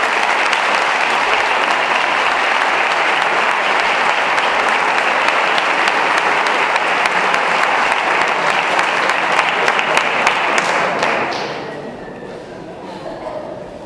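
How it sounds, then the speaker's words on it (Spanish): Loud, sustained applause from a crowd at a Podemos political rally in Pedrera greets a parliamentary speaker, a dense wash of clapping that fades out near the end. "Un aplauso."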